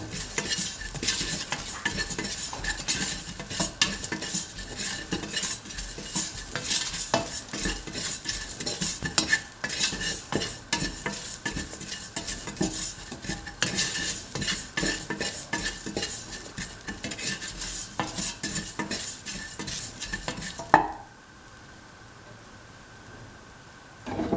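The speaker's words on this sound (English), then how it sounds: "Thoroughly mix. The salt and the mixture of spices." A kidney bean, potato and rice mixture with salt and spices is stirred in a pot with a utensil, giving continuous scraping and clinking scrapes for about twenty seconds before falling quiet.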